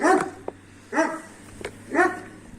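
Kangal dogs bark in three separate bursts, each a short cluster of yips and barks, with quieter pauses and faint background noise between them.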